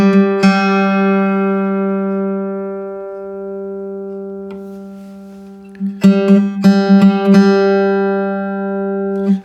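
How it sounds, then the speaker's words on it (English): Two plucked guitar strings ring together, their sustained tones pulsing in a slow wobble, with a flurry of fresh plucks near the end. "Let's create a wobble again. And as I go higher, the wobbles get slower."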